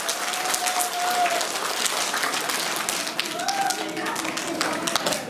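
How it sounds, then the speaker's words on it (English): Children at a school assembly give a big round of applause in a gym, dense clapping and crowd noise with voices mixed in and a few squeaks and shouts. "let's give them a big round of applause"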